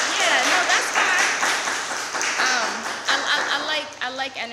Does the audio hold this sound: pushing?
no